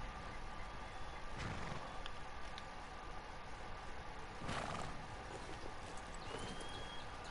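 Horse hooves in a video game clip-clop quietly and steadily at a middle distance against a low ambient hum, with a couple of brief louder thumps and no clear neigh.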